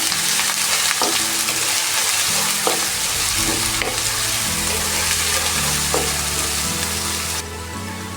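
Shallots, garlic, green chilli and curry leaves fry loudly in oil, a constant close sizzle with repeated scraping strokes of a spoon as they are stirred.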